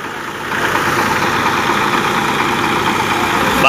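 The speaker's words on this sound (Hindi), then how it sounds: "मैसी में पीटीओ पावर 540 के हिसाब से थ्रेसर बहुत बढ़िया चल रहा है" A Massey tractor drives a mustard thresher through its PTO at 540, giving a loud, steady mechanical drone and churning rumble that holds constant from start to end and swells slightly at the close.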